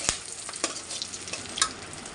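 Bay leaves and green chilies frying in hot oil left in a kadai after frying fish, a close steady sizzle broken by a few sharp spits and crackles, with no talking.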